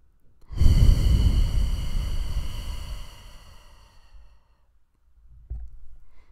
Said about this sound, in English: I always send out some healing, so take a deep breath with me